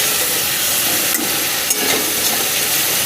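Spice paste for rohu fish kalia cooks down in hot oil with a steady, close, continuous sizzle and a few faint stirring scrapes, with no voices.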